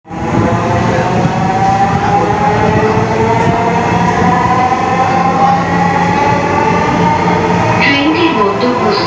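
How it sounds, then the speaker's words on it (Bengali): Inside a moving Dhaka Metro Rail train, a loud sustained rumble and rising motor whine fill the car, with an onboard announcement voice heard partway through. "This train is bound for Agargaon."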